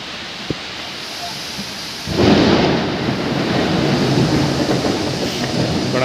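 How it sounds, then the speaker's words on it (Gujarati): Monsoon thunderstorm in Pune with heavy rain, a steady hiss of rainfall broken by a sharp crack and then a loud rumbling burst of thunder that rolls on and lingers over the downpour; no talk. "ભડાકા સાથે આજે વરસાદ પડે છે ભાઈ."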